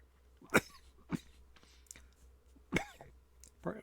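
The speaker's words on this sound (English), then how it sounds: "I have a cough that's just not going to go away" A person coughing several times, sharp and fairly close, with quiet gaps between the hacks and no talking.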